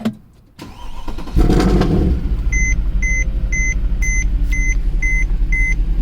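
A Mercedes W204 C63 AMG starts after a fuel-injector replacement: a whirring crank, then the engine catches and settles into a loud, steady, deep idle rumble, with a regular electronic chime beeping repeatedly above it.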